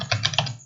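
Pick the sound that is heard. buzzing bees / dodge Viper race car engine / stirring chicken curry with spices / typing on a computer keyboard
typing on a computer keyboard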